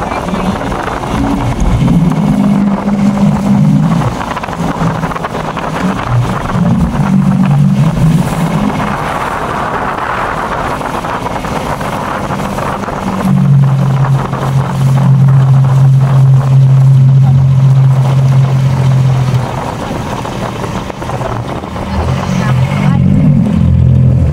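A motorboat engine drones steadily throughout, rising and falling in pitch as it slows and maneuvers to dock on an island, with voices talking over it.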